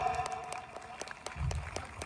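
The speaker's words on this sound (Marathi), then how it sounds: "जरा जोरदार टाळ्या होऊन जाऊ द्या." Applause from the audience at a Marathi stand-up comedy show, faint and brief: a scatter of clapping that swells slightly toward the end, with some background voices.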